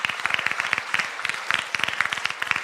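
Applause from a church congregation at a Bible study gathering, many hands clapping in a dense, steady burst that fills the room for a few seconds without speech.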